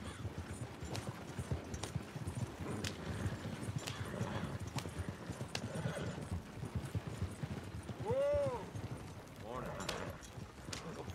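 Horse hooves clip-clop steadily while pulling an oil wagon in Red Dead Redemption 2, with a horse whinnying clearly partway through and other game noise around it.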